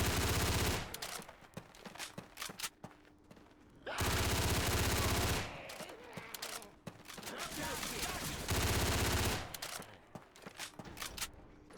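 Gunfire rages in a Left 4 Dead 2 Pier Pressure match on expert, with long, loud bursts of automatic fire alternating with quieter gaps full of scattered shots and movement.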